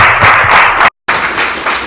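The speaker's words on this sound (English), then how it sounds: "another round of applause for our panelists here." Applause from a youth leadership workshop audience for the panelists, dense clapping at close range that cuts out briefly and then resumes just as strongly.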